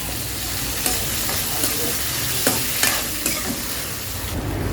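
Ginger, curry leaves and green chillies frying in a pan, a continuous sizzle with a few sharp clicks of stirring, close and steady with no talking.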